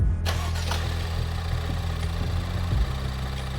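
A rebuilt car engine cranks and fires, then settles into a steady, rough idle with a strong low rumble close by, a brief surge near the end.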